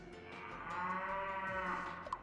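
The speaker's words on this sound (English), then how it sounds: "Is that a cow?" A cow moos in the Miitopia video game, one long drawn-out low bellow lasting about two seconds, clear and fairly close, with no talking over it.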